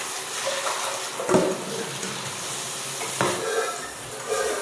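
Tap water pours steadily into a container in a home kitchen where adobo is being cooked, a continuous close splashing hiss with a couple of brief clunks and no talking.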